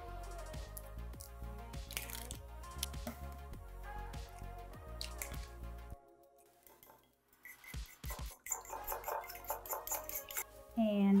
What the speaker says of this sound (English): we've got 2 eggs here that we're going to beat in this bowl